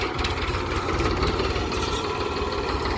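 A tractor engine running nearby, its steady low rumble and mechanical chugging continuous and fairly loud throughout, with no talk.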